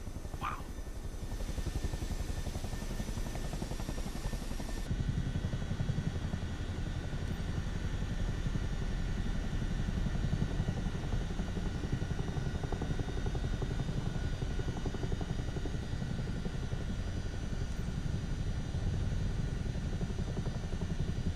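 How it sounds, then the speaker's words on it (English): A Chinook helicopter flies in Microsoft Flight Simulator 2024, a steady heavy rotor thump and engine drone that holds level and continuous throughout, loud and close. "Just doing a lovely flight with the Chinook for the first time"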